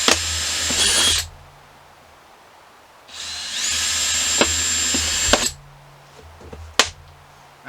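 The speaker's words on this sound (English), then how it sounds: "I'm going to drill a couple of holes about halfway up" A power drill whirs in two long bursts of roughly two seconds each, separated by quiet, followed by a few sharp clicks and knocks.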